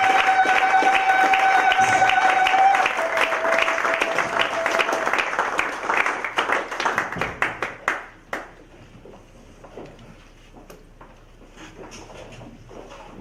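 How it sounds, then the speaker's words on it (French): An audience at an evening gathering applauds: scattered hand claps rise under a fading musical tone, peak briefly, then thin out into quiet room noise. "Nous pouvons faire un acclame pour le ça"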